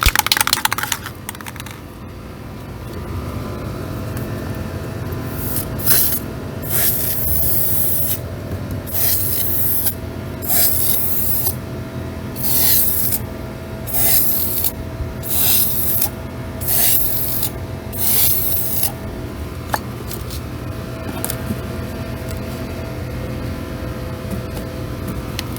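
Short hissing bursts of spray finish go onto an acrylic pour painting in a regular rhythm of repeated passes, laying on several coats over a low steady background hum.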